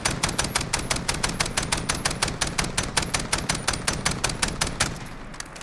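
STAR-21 rifle firing single shots in Call of Duty Modern Warfare, used as a DMR: a fast, steady string of about thirty sharp, loud cracks with no pauses, stopping just before the end.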